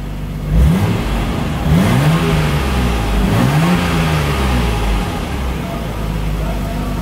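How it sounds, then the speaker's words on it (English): A Nissan Skyline R34 GTR engine blipped in three quick revs near the start and middle, each pitch rising and falling, over a steady close idle that continues to the end. "Let's turn the AC off for a couple of little revs."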